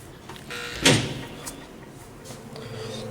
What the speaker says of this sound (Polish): O, takie drzwi były w piątce.